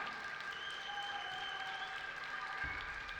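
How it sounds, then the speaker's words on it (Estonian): An audience at a Muay Thai gala applauds, a steady, moderately distant clapping that holds throughout, with a faint tonal hum underneath and no clear talking. "Suur kummardus ja aplaus neile."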